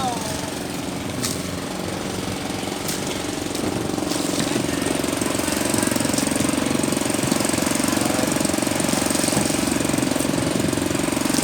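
A serviced fishing boat engine runs steadily for a stretch, a continuous rough, knocking drone near the microphone that swells slightly louder partway through, with no voices over it.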